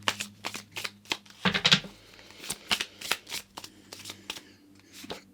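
A deck of tarot cards shuffled by hand close up, with repeated quick riffling bursts and soft slaps in an irregular rhythm, fairly quiet with no talking.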